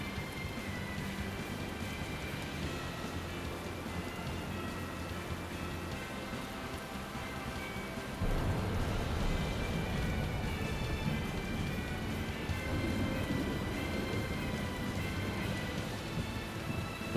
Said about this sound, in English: The rain sound effect.